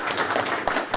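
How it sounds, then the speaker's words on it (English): A room of attendees at an Ansible contributor meetup breaks into applause for the organisers, a short, close burst of overlapping hand claps lasting about a second, with no talking over it. "These folks deserve a round of applause"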